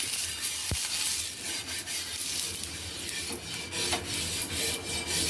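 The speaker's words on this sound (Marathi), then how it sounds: "तेल लावायचा तव्याला." Oil is rubbed across a hot griddle (tava) for rice ghavan, a close, continuous rasping and scraping with short rhythmic strokes and a faint sizzle underneath.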